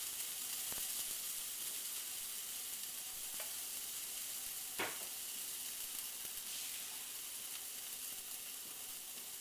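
Steady, even sizzling of garlic simmer-frying in a pan with a little water, a constant hiss with a few faint pops and clicks.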